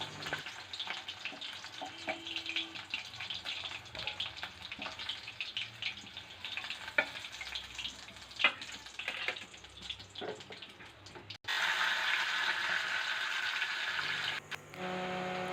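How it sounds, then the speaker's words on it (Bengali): Fish pieces frying crisp in hot oil, a soft steady sizzle with scattered crackles, then a louder, denser hiss that surges up for the last few seconds. "এই মাছটা আমি একটু কড়া করেই ভাজছি"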